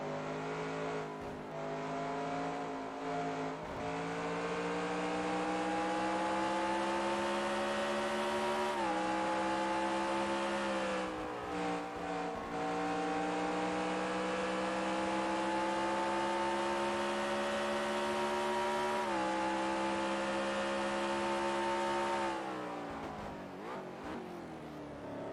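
Onboard engine of a race car in a sim racing game at Road America, a loud, steady high-revving drone that holds for the whole stretch. Brief pitch dips mark gear shifts, and no talk is heard over it.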